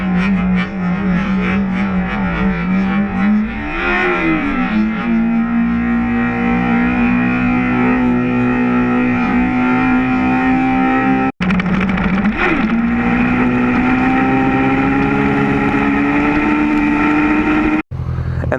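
A motorcycle engine revs hard as the clutch is popped to lift the front wheel; a loud, buzzing engine note climbs steadily in pitch, cuts off abruptly, then rises again in a second long pull.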